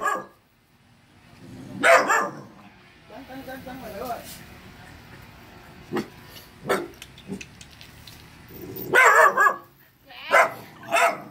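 A small Phu Quoc dog on Phu Quoc island barks in a few sharp bursts, spread between and over someone talking nearby.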